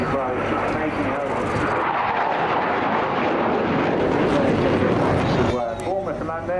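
An RAF Eurofighter Typhoon at a night airshow in Bournemouth roars continuously and loudly as the power comes on, a broad rumbling jet noise running the whole time under a commentator's voice.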